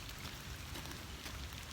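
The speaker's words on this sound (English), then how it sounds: "I think the rain's starting to pick up again too" Steady rain falls across a flooded park, a faint, even hiss of drops on wet ground and standing water, with no voices.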